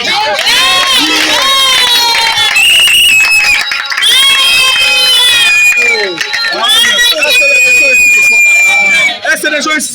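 A church congregation at a Passover service cheers and acclaims loudly, a dense crowd of shouting and whooping voices filling the room continuously.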